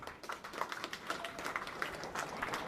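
Theatre audience applause after a play, a soft, fairly distant patter of many hands clapping, steady and even throughout with no voices on top.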